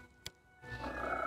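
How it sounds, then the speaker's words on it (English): Frogs croaking in Pathfinder: Kingmaker: a sharp click, then a dense, rising chorus of croaks fills the second half at moderate loudness. "croaking all the way."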